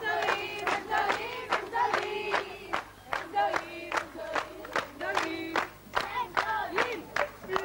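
A concert audience at a fiftieth-anniversary celebration in Kfar Shmuel claps and cheers loudly to welcome the director and the musical arranger onto the stage, with rhythmic bursts of applause and raised voices throughout.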